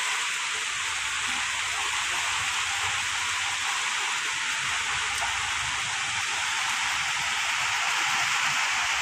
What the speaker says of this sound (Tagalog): kusog ra ba ang ulan daw kusog pud hangin